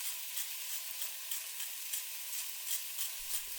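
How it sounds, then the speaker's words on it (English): Chicken breast sizzles steadily as it browns in a hot pan, a continuous high crackle with small pulsing swells, plus a brief low clunk near the end. "We're browning the chicken first."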